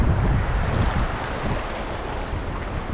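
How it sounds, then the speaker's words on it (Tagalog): Big sea waves break against a rocky shore, a loud, continuous churning roar of surf with heavy low rumble and wind buffeting the microphone, with no voices over it. "Ang laki yung alon."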